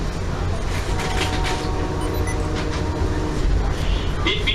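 The westbound California Zephyr passenger train runs on rails beside the Truckee River, a steady low rumble and rolling roar heard from onboard, with faint clicks near the end.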